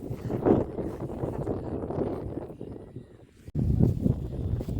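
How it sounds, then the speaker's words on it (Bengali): Wind sweeping across open village fields buffets the microphone in low, rumbling gusts that rise and fall, dropping out briefly before surging again, with no clear speech. "তো বাতাস উড়ে যাচ্ছে।"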